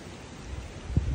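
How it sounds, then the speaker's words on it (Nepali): Strong wind sweeping across the Fungfung picnic spot at Kakani in Nuwakot makes a steady, faint broadband rush with low buffeting gusts that swell near the end, and no one talks. "यस्तो हावाहुरी चलिरहेछ"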